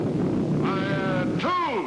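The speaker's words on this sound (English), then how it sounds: "Missile units commence firing by twos." Missile units fire in a 1950s sci-fi space series, with a booming blast followed by whistling, swooping tones as projectiles streak off, over rumbling background noise.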